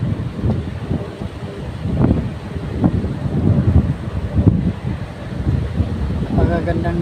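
Gusty wind rushing past the microphone over open farmland in uneven low bursts, steady throughout, with faint voices now and then.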